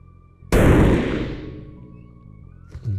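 A single loud carbine rifle shot fired through a scope while zeroing at a range, a sharp blast with a long decaying tail, followed by a faint clatter.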